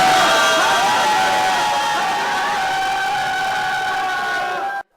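Crowd of citizens cheering in Korea at the impeachment ruling removing President Yoon Suk Yeol, a loud, sustained roar of voices and shouts that holds steady before cutting off abruptly.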